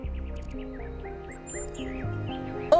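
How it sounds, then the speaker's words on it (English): Birds chirp in The Talos Principle 2, several short tweets and warbles drifting over a sustained musical score, moderately clear and without any talk. "Do you hear the birds chirping outside the door?"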